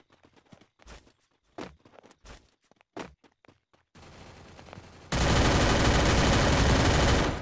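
Gunfire in the mobile battle game Free Fire during a Clash Squad match: a few scattered shots, then steadier firing, ending in a loud continuous burst of rapid automatic fire.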